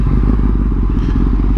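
A Yamaha MT-09 SP motorcycle being ridden, heard as a loud, close, continuous low engine rumble mixed with wind buffeting and no clear gaps.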